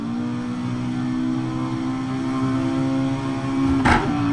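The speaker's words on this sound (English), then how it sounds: "As he jams the gas again" A car engine in the racing game Assetto Corsa revs and accelerates, a sustained buzzing drone that climbs in pitch and briefly surges louder near the end, with no voices.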